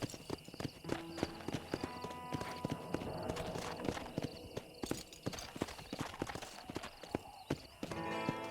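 Hooves of a horse clip-clop rapidly in an uneven galloping rhythm, moderately close and fairly quiet, with a brief neigh-like sound and faint voices in the background.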